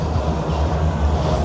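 An amusement park train ride at Cedar Point rumbles steadily, with loud, continuous low wheel and track noise and no voices over it.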